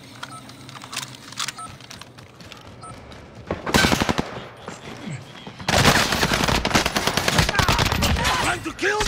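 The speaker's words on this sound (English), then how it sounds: "We're taking fire!" Automatic gunfire from Call of Duty Warzone erupts in two loud, dense bursts after a quieter stretch of scattered shots, with excited voices faintly underneath.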